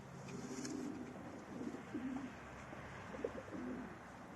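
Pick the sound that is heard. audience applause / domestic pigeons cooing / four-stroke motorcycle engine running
domestic pigeons cooing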